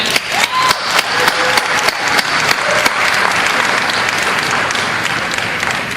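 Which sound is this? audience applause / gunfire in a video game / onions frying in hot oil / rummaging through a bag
audience applause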